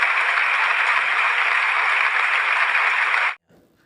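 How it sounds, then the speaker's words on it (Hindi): An audience at a speech about Dr. Ambedkar claps in loud, dense, sustained applause that holds steady for over three seconds, then cuts off abruptly into near silence. "जोरदार तालियां।"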